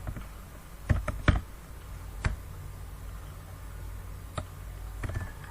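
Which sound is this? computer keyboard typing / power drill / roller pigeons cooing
computer keyboard typing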